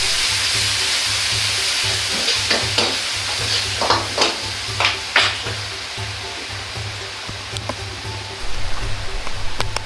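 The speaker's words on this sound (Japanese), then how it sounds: "醤油を 25g 鍋肌から入れ、よく炒め香りを出す。" Soy sauce hits the hot pan wall and is stir-fried for mapo tofu, giving a continuous close sizzle broken by repeated scraping and clacking of a spatula against the pan.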